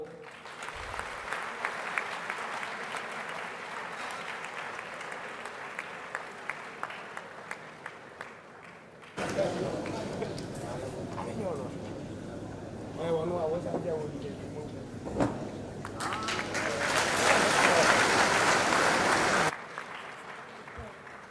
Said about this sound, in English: Please applaud Professor E.L.K. Osafo